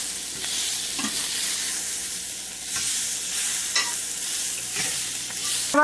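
Soya chunks (meal maker) dry-roasting in a pan over low heat, with a soft continuous sizzle and intermittent scraping stirs of the spoon against the pan, steady and close, no talking.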